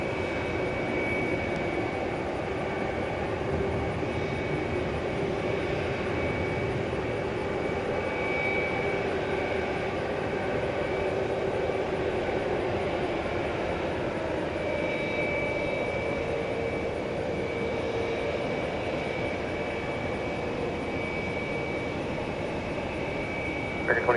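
An American Airlines jet airliner takes off at night from runway 18 right at DFW Airport, its engines a loud, steady, broadband roar that holds unbroken throughout.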